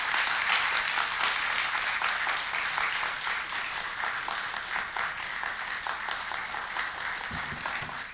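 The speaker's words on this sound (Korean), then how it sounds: "박수로 환영해 주시면 좋겠습니다." Steady applause from a seminar audience of pastors welcomes a lecturer, a dense crowd of clapping hands at moderate distance that holds evenly for several seconds before thinning slightly at the end.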